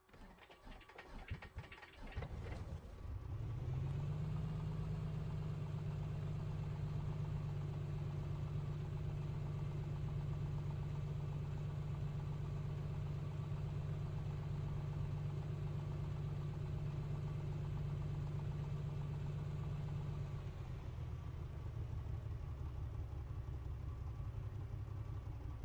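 Piper Comanche piston aircraft engine in MSFS 2024, with fouled spark plugs, catching after a few rough sputters and then settling into a steady, loud low idle that holds for about twenty seconds before easing slightly toward the end; no talking.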